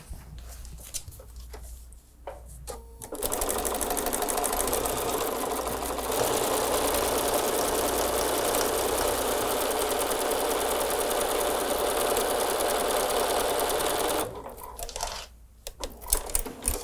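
A sewing machine runs steadily through a seam on a fabric table runner, a loud close continuous whir lasting about ten seconds, framed by quieter handling sounds before and after.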